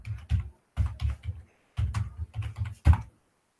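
Bursts of computer keyboard typing, clusters of quick close key clicks separated by short pauses, entering a short phrase with no talking.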